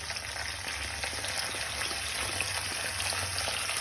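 A paste of onion, ginger, garlic and tomato frying in a pan, giving a steady even sizzle that stays close and continuous, with no voices.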